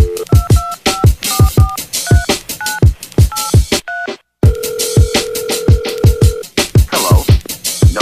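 Telephone keypad tones beep in quick two-tone bursts over a thumping beat, then a steady tone holds briefly before the music continues.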